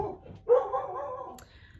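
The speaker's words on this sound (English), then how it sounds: "That's my dog barking and my doorbell ringing," A dog barks once or twice at close range, a drawn-out bark-whine with a short yelp at the end, over quiet room background.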